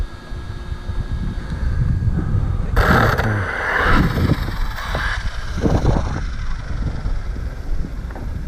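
An Arrma Kraton RC car on a speed run accelerating at full throttle, a loud rising motor whine with wind buffeting and rushing noise over the open air, no talking.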